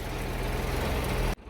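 A tractor engine drones loudly and steadily with a low, throbbing rumble while ploughing a field, then cuts off abruptly just before the end.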